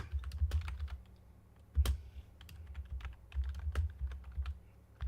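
Keys clatter on a computer keyboard in uneven bursts, close and soft, with short pauses between runs of typing.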